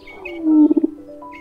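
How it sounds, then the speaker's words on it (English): Played-back courtship vibration signal of a male treehopper, a low buzzing drone that rises into three quick pulsing throbs, faint and brief with no other sounds around it. "The male produces his courtship signal."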